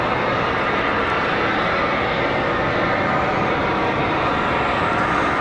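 A Delta airliner in from Salt Lake City roars past at Charlotte Douglas airport, a continuous loud engine rush that stays constant for the whole few seconds.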